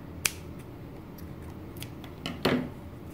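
Scissors snipping the yarn end off a crochet cover-up in a quiet room, a sharp snip near the start, a few faint handling clicks, then a double crunch of blades closing.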